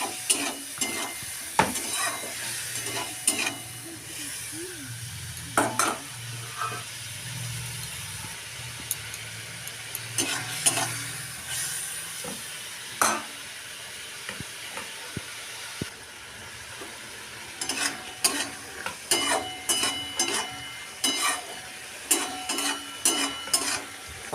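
Spices with tomato, turmeric and a splash of water are stir-fried in a pan. Faint sizzling runs beneath scattered scrapes and taps of a spoon against the pan, quiet and close.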